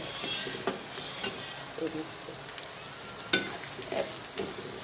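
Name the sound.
okra frying in oil on the stove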